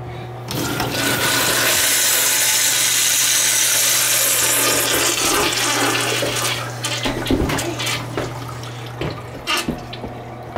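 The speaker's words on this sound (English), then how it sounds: "You're gonna flush it?" Mansfield urinal flushing in a building restroom, a loud, close rush of water that runs steadily for several seconds, then tapers into gurgles and drips.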